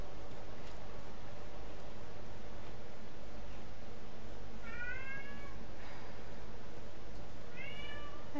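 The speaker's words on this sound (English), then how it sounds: "There's kitty cat." Cat meowing in The Last of Us, two distinct meows a few seconds apart over a constant hissing background noise, moderately loud, with no speech.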